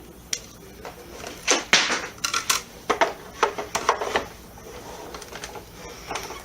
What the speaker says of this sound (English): So then you're going to take your Cricut or your Cuttlebug or whatever die cutting, thing that you have. And we're going to cut that out real quick.